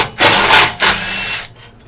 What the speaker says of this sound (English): Now I'm going to remove the 13mm bolts that attach the skid plate to the bumper. I'm using a Makita impact wrench to do this.